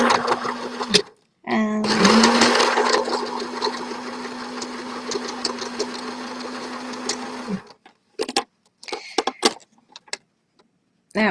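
A sewing machine stitches and back-stitches tie-dyed fabric pieces for a shopping bag, running as a steady close whir for several seconds, then a few short bursts of stitching, with brief speech nearby.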